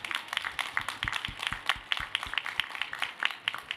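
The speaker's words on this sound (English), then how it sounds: "Please, a round of applause for my wonderful panelists." After a panel discussion on enterprise agility, a modest audience claps for the panelists, the claps scattered and uneven rather than a dense roar, fairly close and moderate in volume.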